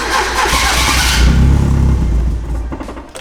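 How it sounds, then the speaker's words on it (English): Turbocharged Mazda Miata engine being cranked after flooding, a loud continuous churning roar that builds then fades as it runs out of fuel, with no voices over it. "I'm just gonna try to start it, see what happens."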